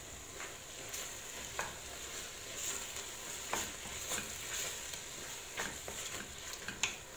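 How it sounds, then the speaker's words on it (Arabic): Vegetables with black pepper and chili being stirred in a pot as they cook, a steady low sizzle with scattered scraping clicks from the utensil, close and even throughout, no voices. "راح نخلط كامل المكونات ونخلوهم يطيبوا غير بعقلهم"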